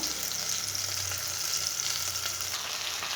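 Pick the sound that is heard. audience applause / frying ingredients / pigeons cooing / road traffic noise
frying ingredients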